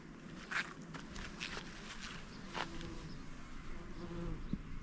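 Bumblebees buzz around flowers in a garden bed, their hum drifting close and away in several passes over a faint outdoor background, with some soft footsteps.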